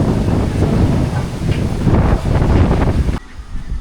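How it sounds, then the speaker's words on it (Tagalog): Strong wind roars and buffets the microphone in loud, rushing gusts at night near Sampaloc Lake, cutting off abruptly near the end. "gabi na lakas pa rin ng hangin dito sa amin"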